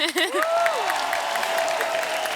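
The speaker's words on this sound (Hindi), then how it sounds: "एक बार जोरदार ताली" A studio audience at a comedy talk show breaks into applause, a broad wash of clapping at moderate level, opened by a brief rising, wavering vocal whoop or cheer, then settling into a steady crowd patter.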